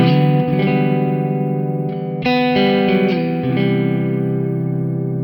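Electric guitar runs through Quad Cortex Soldano and Fender amp models blended with a balance split, ringing out sustained distorted chords and notes with reverb, loud and unaccompanied by talk.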